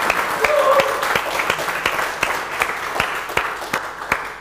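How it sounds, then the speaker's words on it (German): A studio audience on a late-night cooking show claps steadily, with crisp individual hand claps standing out over a moderate, even wash of applause. "Ich liebe Applaus."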